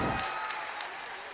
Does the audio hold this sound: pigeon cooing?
no